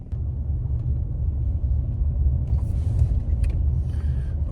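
A car rolling slowly into a residential subdivision, heard from inside as a steady low engine and road rumble with a few faint clicks and rattles, no talk.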